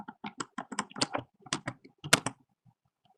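An AutoCAD command is typed on a computer keyboard, a close run of crisp, uneven keystroke clicks with a short pause before a final few taps.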